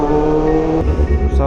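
Road traffic passes around a motorcycle on a Philippine road, heard from the rider's helmet mic as a steady engine drone with a deeper rumbling vehicle swelling in after a moment, loud and close, with no talk.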